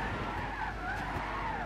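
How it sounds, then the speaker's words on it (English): Car tires skidding and squealing under full braking in a GT3 race car in Gran Turismo 6, a steady continuous screech over engine roar lasting the whole moment, loud and close. "We're sliding when we're putting full brake force in"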